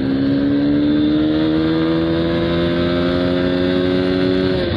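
A Honda X-Blade motorcycle pulls through first gear with a loud, steady engine drone. The tone is rich in harmonics and its pitch creeps gradually upward as the bike gains speed.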